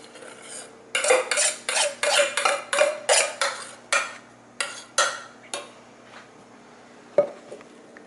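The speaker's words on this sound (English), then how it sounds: "now we're going to be putting that whipped cream on top one last time" Whipped cream spread over tiramisu layers with a utensil: a run of about a dozen quick, close scraping strokes against the dish, then a few sparser swipes and a final tap.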